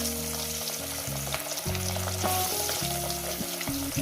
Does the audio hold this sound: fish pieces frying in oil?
yes